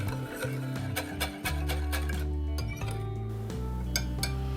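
Rapid clinking of a utensil against a bowl, a steady rhythmic scraping and tapping as eggs, unsalted butter and lemon juice are stirred, close and continuous, with a low hum underneath.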